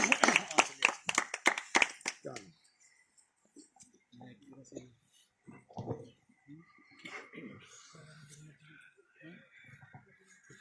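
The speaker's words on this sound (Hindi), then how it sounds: "एक बार जोर नाल तालियां मार लो।" A church meeting congregation claps loudly in a burst of rapid, dense hand claps for about two seconds, then it fades out and speech and quieter room sounds follow.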